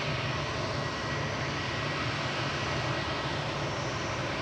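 An EasyJet airliner departing Manchester Airport produces a continuous, even engine roar, distant and fairly faint, with no voices present.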